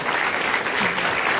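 Steady applause from a stand-up comedy audience, dense clapping that holds at a constant loudness from start to finish.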